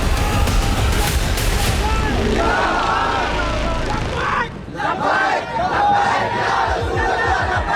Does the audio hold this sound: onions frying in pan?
no